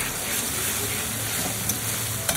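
Ginger garlic paste sizzles steadily with fried onions in a hot pan, a continuous close frying hiss with a couple of brief stirring clicks near the end.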